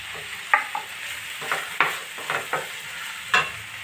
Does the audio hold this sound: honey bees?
no